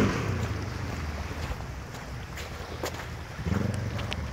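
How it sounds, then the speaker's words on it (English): A boat moves across open water, churning a low rushing wash of waves mixed with heavy wind buffeting the microphone, with steady noise swelling again near the end. "He's creating some waves."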